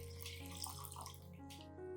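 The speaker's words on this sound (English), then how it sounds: "After that, I dilute the entire mixture with 2 liters of clean water." Clean water pours into a fertilizer mixture to dilute it, a steady close trickle and splash with faint bubbling, running continuously and alone, while music plays underneath.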